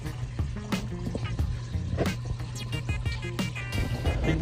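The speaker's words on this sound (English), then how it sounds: "I think the water might be running a little fast though" Water rushes steadily through a gold sluice, a close, continuous splashing and gurgling flow with scattered clinks, and no voices.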